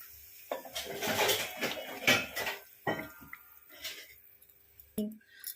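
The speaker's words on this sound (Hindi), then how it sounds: "अब हमें इसमें 1 गिलास दूध डालना है" Milk is poured into roasted bottle gourd in a kitchen pan, a soft liquid splashing and sizzling with clinks of the vessel against the pan, followed by quieter dripping and a final metallic tap.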